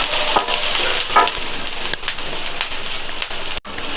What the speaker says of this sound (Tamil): வெங்காயம் தோசைக்கல்லோட எல்லா பக்கமும் இந்த மாதிரி பரவலாக வதங்கணும்.